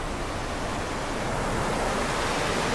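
River water rushes steadily at a deep swimming hole running high after a dry summer, a continuous broadband roar like surf, close and constant with no talk.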